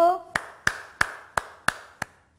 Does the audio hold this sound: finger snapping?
yes